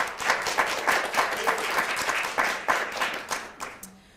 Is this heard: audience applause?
yes